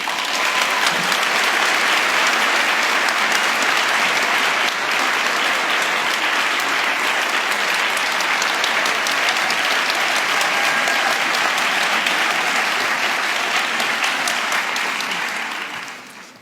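A large audience applauds steadily at a 92nd Street Y evening event as Barry Rosenstein is welcomed to the stage, a dense, even wash of clapping that holds for about fifteen seconds before tapering off.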